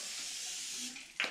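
An Evian facial mist spray hisses in a steady close burst of fine spray, then gives a brief sharper puff near the end, with no talking.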